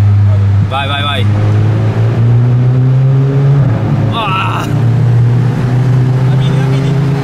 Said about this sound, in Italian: Purtroppo con un 2000 turbo benzina è così, Harry.